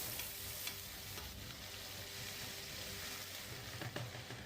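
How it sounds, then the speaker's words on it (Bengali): Chopped onion and green chilies frying in oil in a saucepan give a dense, even sizzle up close, with faint taps of stirring now and then and no voices. "এবার পেঁয়াজ আর মরিচগুলোকে আমি প্রথমে হালকা একটু বাদামি কালার করে নিব"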